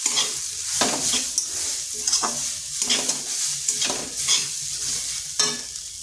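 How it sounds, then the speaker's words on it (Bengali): Ground green chilli, whole cumin and ginger paste fried with boiled chickpeas in a pan, a soft sizzle broken by repeated rhythmic scraping stir strokes close by. "ভালো করে মশলাটা একটু ভেজে নিচ্ছি।"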